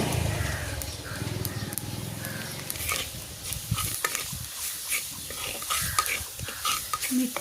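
Roasted flour and spice masala being stirred with salt in a pan for a karadai greens dish, giving a steady close scraping and shuffling with a faint sizzle beneath, continuous throughout.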